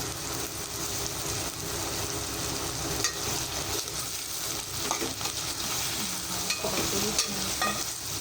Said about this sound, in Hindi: ताकि प्याज बराबर हर तरफ से तले।